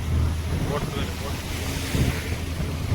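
Steady wind and rushing sea wash over a small fishing boat heading out into deep water, a continuous broadband roar with faint murmurs of voices beneath it.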